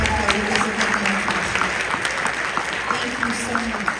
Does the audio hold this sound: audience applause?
yes